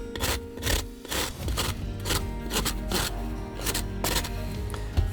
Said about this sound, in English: So now I'm sanding everything down and trying to make it a bit more smooth and easier to play with.